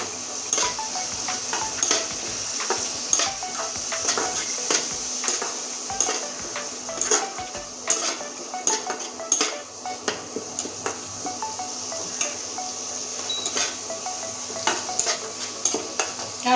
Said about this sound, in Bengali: সুন্দর করে কষতে থাকবো মশলা থেকে তেল ছেড়ে দিয়েছে